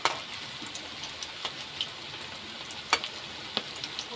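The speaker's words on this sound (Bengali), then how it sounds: "প্রত্যেকটা কোপ্তাকে আমি লাল লাল করে ভেজে নেব।" Jackfruit koftas frying in oil: a soft, faint sizzle with scattered sharp crackles and pops.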